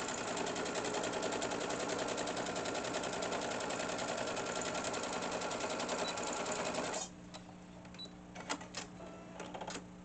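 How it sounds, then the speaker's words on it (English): A sewing machine runs fast and steady through fabric, a dense, continuous whirring stitch for about seven seconds, then stops, leaving quieter clicks and handling taps. "I like to sew on the right side of it. And remember to backstitch so your stitches don't come out."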